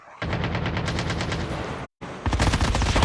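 Rapid automatic fire from an MX9 submachine gun in a battle royale video game, a dense, loud stream of shots that stops abruptly, leaves a brief silence, then resumes with another burst.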